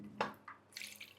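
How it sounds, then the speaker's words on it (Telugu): Short splashes and drips of water while chicken is washed with vinegar and salt in a home kitchen, a few quiet sloshes close by with no talk. "వెనిగర్ తోటి కొంచెం ఉప్పు వేసి మనం చికెన్ని కడిగేసుకోవాలన్నమాట"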